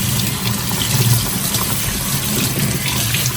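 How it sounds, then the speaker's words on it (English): Water from a kitchen sink tap runs steadily over wooden pieces to soak them, a close, continuous splashing rush with no talk. "you're just going to run it under your sink. You want all the wood to be wet."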